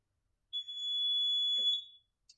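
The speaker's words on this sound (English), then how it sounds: "You'll just hold the clear button for 5 seconds, and then it beeps, signifying you that it's done the change." OILWIND JigReel machine giving a single sustained high-pitched electronic beep of about a second and a half after its clear button is held for a factory reset, clear and alone, followed by a faint click.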